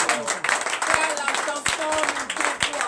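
A church congregation applauds and acclaims during a Sunday worship service, a dense stream of hand claps with voices mixed in throughout.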